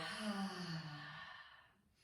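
A single deep, slow exhale during guided yoga breathing. It is soft and close, and it fades out gradually over about two seconds.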